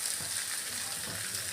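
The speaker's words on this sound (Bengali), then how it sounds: "পেঁয়াজটা একটু লাল লাল করে ভাজা প্রায় হয়ে গেছে" Onions frying in oil until reddish-brown, heard as a continuous bright hiss and sizzle at close range with a soft underlying bubbling, brief and steady, with no voices.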